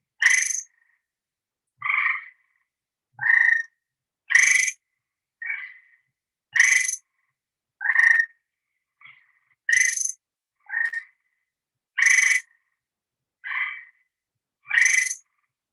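Tree frogs calling outdoors, with loud, clear trilling calls repeating at a steady pace, roughly one burst per second, against a silent background.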